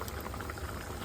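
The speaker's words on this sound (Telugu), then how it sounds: "భలే ఉడుకుతుంది." Cucumber and dried fish curry bubbling in a pot, a brief close burst of steady simmering with soft popping bubbles and no voices.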